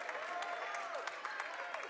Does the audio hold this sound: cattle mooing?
no